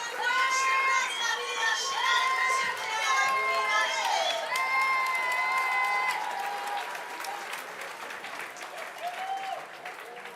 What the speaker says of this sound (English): you'll hear the crowd in the background screaming for Pierre Puybarret